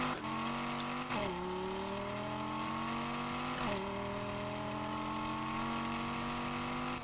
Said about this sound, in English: This car is making way too much noise right now. I'm trying to pull it up a hill.